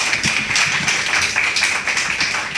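At an internal audit event in Anguilla, an audience gives a full round of applause: loud, continuous clapping from many hands, with no break and almost no voices.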